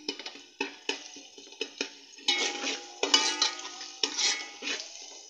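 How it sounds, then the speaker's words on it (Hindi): Onion and garlic browning in a pan: a light sizzle under repeated spoon scrapes and taps against the pan, close and steady with no talking. "अब इस लहसुन को भी हल्का हल्का ब्राउन कर लूँगी प्याज के साथ"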